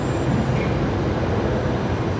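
Qantas Link Embraer jet departing runway 19, a broad steady roar heard at a distance.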